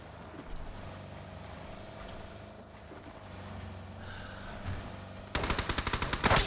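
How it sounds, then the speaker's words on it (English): Gunfire rings out in a PUBG esports match: a steady vehicle engine drone runs underneath, then a loud burst of rapid automatic shots erupts near the end. "FaZe Clan taking a few shots now at Snip as they move out of prison"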